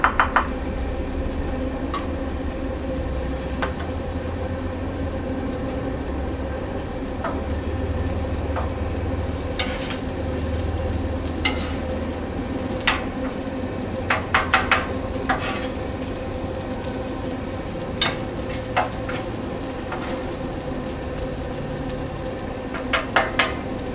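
Green chillies sizzle and fry in a pan on a stovetop burner for a Mexican pizza, a steady close crackle broken by repeated clicks and scrapes of stirring.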